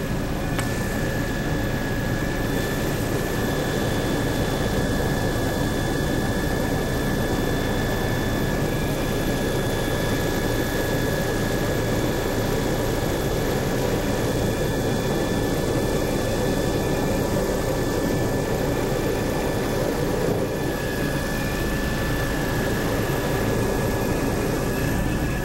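A low-flying survey aircraft circles at about 400 feet over the head of a harbour on Bras d'Or Lake, its engine producing a loud, unbroken drone with steady tonal hums from start to finish.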